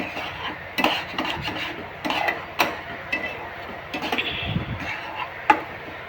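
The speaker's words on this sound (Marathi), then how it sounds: "चांगलं परतून घ्यायचं." Egg bhurji being sautéed in a pan, a spatula scraping and clinking against metal in irregular bursts, close and moderately loud with a low sizzle beneath.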